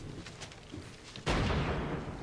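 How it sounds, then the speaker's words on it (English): Cannon fire on Utah Beach in a World War II drama scene breaks out as a sudden loud, broadband blast midway, followed by sustained rumbling barrage after quieter distant thuds earlier. "cannons are firing on Utah Beach, man"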